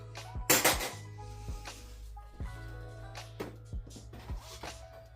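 Chocolate muffins lifted out of a metal muffin tin, giving a loud clatter near the start and then several lighter metallic knocks and clinks spread through the following seconds.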